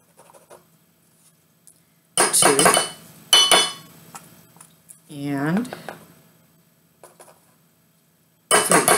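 A metal spoon scoops cocoa into a mixing bowl already holding brown and granulated sugar. It makes a few scraping clinks close by, in short bursts, with brief talk between them.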